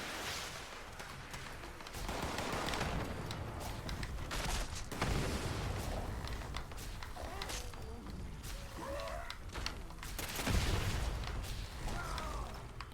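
Enclave plasma flamer in a video game roaring in sustained blasts against super mutants, a dense, loud, continuous fiery rush with bursts and booms layered throughout.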